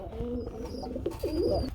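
Mumbai fancy pigeons coo close by, a few throaty, wavering coos in quick succession, with faint background talk.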